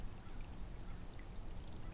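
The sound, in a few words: creek water flowing in Rose Canyon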